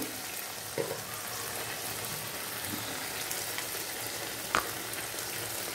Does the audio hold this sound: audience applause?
no